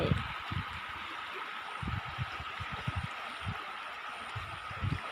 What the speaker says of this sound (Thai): ชอบเสียงน้ำไหลจริง ๆเลยค่ะ